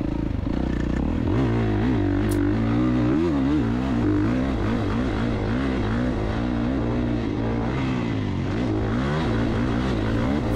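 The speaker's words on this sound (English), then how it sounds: "Sunday was a lot of fun on the dirt bike." A 2024 Kawasaki KX450 dirt bike engine drones and revs steadily at a high desert motocross track, pitch rising and falling with throttle changes over rough ground, loud and close throughout.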